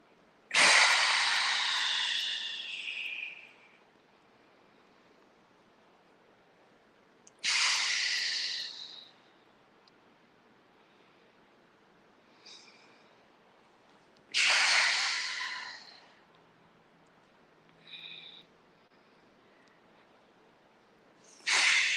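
Slow, deep breaths during a tai chi exercise, four loud hissing exhalations spaced about seven seconds apart with faint quieter breaths between, close and with no talking.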